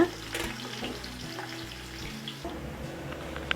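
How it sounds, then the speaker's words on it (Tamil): Steady hissing sizzle of onions sautéing in a pan, with occasional faint clinks, continuous and close. "வெங்காயம் வதங்கிட்டே இருக்குங்க"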